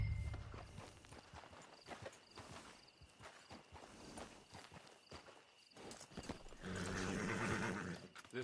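Horse hooves clip-clopping at a walk in Red Dead Redemption 2, arriving at a camp, a steady run of soft footfalls that turns busier and louder near the end, with no talk over them.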